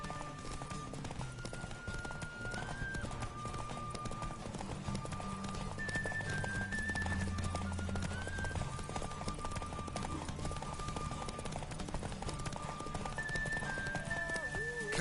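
Roach the horse gallops in The Witcher 3 on PS4, a steady rhythmic clip-clop of hooves running throughout with soft tonal game music underneath.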